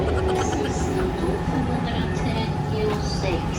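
Steady, loud rumble and rattle fill the inside of a moving passenger train in Sweden, continuous throughout with faint high squeals, while people talk over it.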